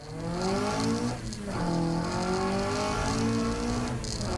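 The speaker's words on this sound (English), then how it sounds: "The little car takes its first test drive." A restored 66-year-old Ford Anglia converted into a sports car revs up and down through gear changes on a test drive, buzzing steadily close by with no talking.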